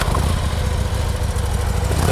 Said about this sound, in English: The bike is now running.